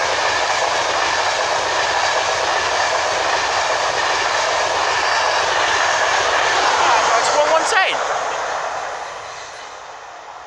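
Train 82206 rolls past on the East Coast Main Line at Northallerton, a loud, steady rush of wheels and engine roar that holds for several seconds before fading away as it recedes.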